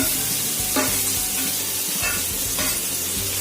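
Ingredients for mint mango rice fry in a pan with grated mango added, producing a steady close sizzle broken by a few scraping stirs of a spoon; no speech.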